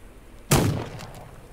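A single booming gunshot in a video game, sudden and loud, with a rumbling tail that fades over about a second.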